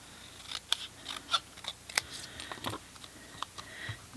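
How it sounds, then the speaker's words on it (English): Scissors snipping through cardstock to cut a piece in half for a layered stamped greeting card, a run of sharp, close crisp cuts scattered irregularly over a quiet background. "just cut it in half up the middle"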